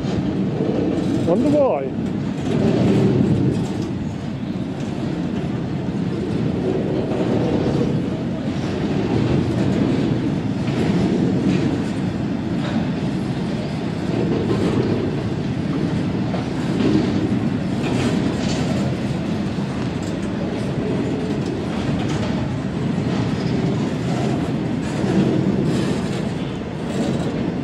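A Class 66 diesel freight locomotive reverses at Worksop station, its rolling wagons giving a continuous loud rumble with clickety-clack and faint wheel squeal throughout. Someone speaks briefly over it.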